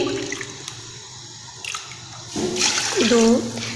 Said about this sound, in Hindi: मैं इसमें सिर्फ 3 कप पानी ऐड करूँगी